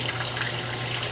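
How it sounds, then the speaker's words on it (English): Steady rushing water flowing through a main sewer line, a continuous low gush heard close with no talking. "That is the water running by at the main."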